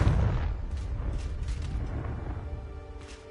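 A Confringo blast spell from Hogwarts Legacy goes off with a heavy booming explosion at the start, then a rumbling decay with faint crackles and small bursts trailing off.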